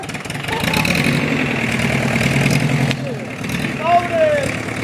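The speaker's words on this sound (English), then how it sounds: "This engine is now ready to serve many hours on our local canals." A reconditioned narrowboat engine runs at a steady idle, a loud continuous low throb lasting throughout, with brief whistling or squeaking tones near the end.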